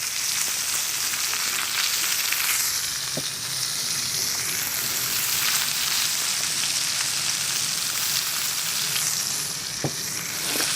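Onions, peppers and potatoes fry in a pan, a steady close sizzle with constant crackling hiss throughout and a couple of faint clicks of a utensil.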